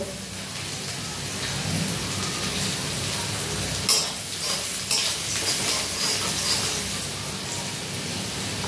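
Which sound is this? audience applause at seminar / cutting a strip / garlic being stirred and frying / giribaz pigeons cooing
garlic being stirred and frying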